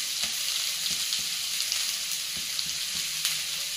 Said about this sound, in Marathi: कांदा चांगला असा परतून घ्यायचा, चांगला लाल होईपर्यंत.